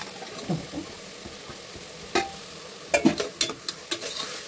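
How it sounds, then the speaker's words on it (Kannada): A spoon stirs sprouts and green chillies in a hot pan for a village-style sprouts and egg curry, with soft sizzling and a few scraping clacks growing more frequent toward the end, close and alone. "ಹಾಗಾಗಿ ಇದನ್ನು ಮಿಕ್ಸ್ ಹಾಕೋಣ."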